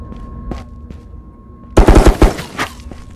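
LMG machine gun firing in the video game Ghosts of Tabor: a loud, sudden burst of rapid automatic shots after a quiet stretch with faint background sounds, followed by a few scattered trailing shots.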